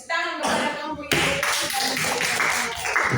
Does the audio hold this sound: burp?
no